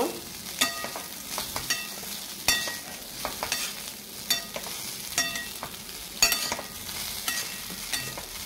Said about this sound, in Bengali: চিড়ে দেওয়া হয়ে গেছে, আমি এবার এটাকে ভালোভাবে মিক্স করে নেব।